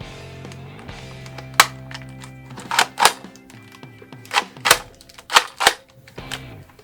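Masking tape is stripped off a freshly painted, stiffened prop chick in a series of about eight sharp, crackling rips at close range, each burst quick and separated by short pauses.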